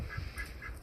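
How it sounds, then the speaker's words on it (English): A goose kept in a cage on a ranch property gives three evenly spaced honks in under a second, close and moderately loud over a steady low background hum. "it's the goose"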